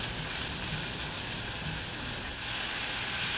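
Garlic sizzling and frying in a pan alongside a softened onion filling, a steady close hiss throughout with faint stirring.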